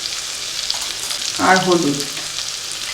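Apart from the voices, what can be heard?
onion, tomato and spices frying in a pan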